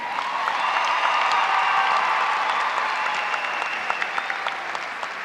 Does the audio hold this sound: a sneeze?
no